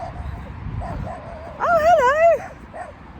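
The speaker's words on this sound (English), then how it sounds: "it turns out that little doggy is partially blind, so barks at everyone" A small, partially blind white terrier lets out one drawn-out, yelping bark close by. A person talks just before and after it.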